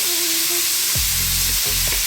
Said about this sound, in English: we're going to go in with our onions. And we're going to cook these for about 4 to 5 minutes.